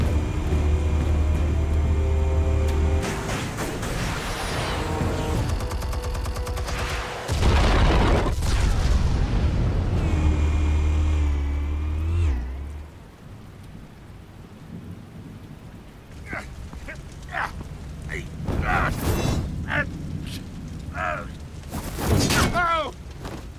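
Explosives detonate in the Batman Telltale video game: a loud, deep, rolling blast that rumbles on for several seconds, fades, then gives way to scattered crackles and sharp hits, with voices heard in the game.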